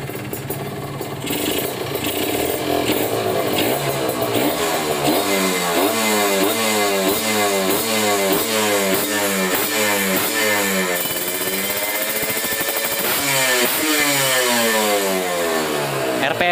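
A Kawasaki Ninja RR two-stroke motorcycle engine with a Mikuni carburetor and stainless slide is revved repeatedly, close and loud, in rising and falling bursts of throttle over a rough idle, with no talk.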